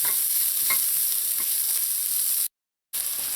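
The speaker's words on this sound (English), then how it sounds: "So I'm going to saute this now until the garlic turns a light brown color." Chopped garlic and onions sauté in a pan with a steady, close sizzle and a few stirring scrapes, then a brief dropout before the frying resumes.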